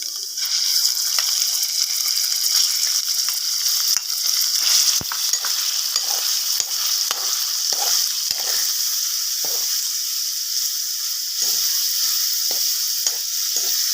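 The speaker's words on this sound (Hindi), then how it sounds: "थोड़ा सा फ्राई करूंगी चिकन को।" Chicken frying in a pan with garlic and ginger-garlic paste, a steady loud sizzle and hiss with occasional stirring scrapes, close and continuous with no talk.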